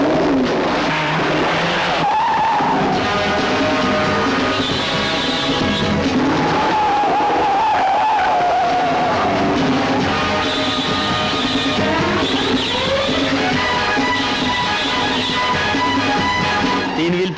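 Car stunt-driven on two wheels, its tires squealing and skidding in long sustained screeches over a steady engine roar, loud and close throughout with no talk.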